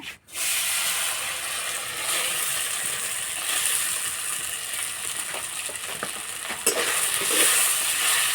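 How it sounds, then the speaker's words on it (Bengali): Soaked sago frying lightly in hot oil with bay leaf and cardamom for sago payesh, a steady close sizzle with stirring scrapes throughout and a brief clatter near the end. "এবার সাবুটা ভেজে নেব।"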